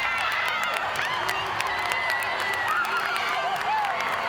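A loud college gymnastics crowd at a Florida at Georgia meet, a dense roar of cheering and whooping with scattered clapping and high shouts, sustained throughout while a commentator talks over it.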